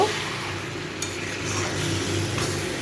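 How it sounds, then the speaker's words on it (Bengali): Banana flower stirred with spice mix in hot oil in a pan, a continuous close sizzle with soft scraping from the stirring utensil and no voices. "মোচাটার সাথে এই মশলাটাকে খুব ভালো করে একটু মিশিয়ে দেব।"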